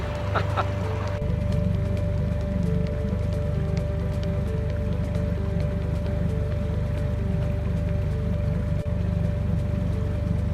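A boat's outboard engine, tilted well up, runs on the River Wyre, a steady low droning hum with a faint tonal whine, constant and close for the whole stretch.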